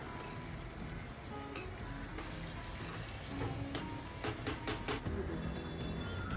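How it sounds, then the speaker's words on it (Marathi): Marinated mutton sizzles in a ground masala paste in a pan, a dense close frying hiss, with a quick burst of scraping, clicking stirs near the end. "आता त्या वाटणामध्ये आपण आपलं मॅरिनेट केलेलं मटण घालून घेऊयात"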